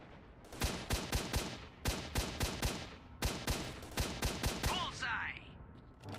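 Gunfire in STALKER: Shadow of Chornobyl, with several quick bursts of sharp, loud shots in rapid rhythmic volleys separated by short pauses, ending in a softer rustling tail.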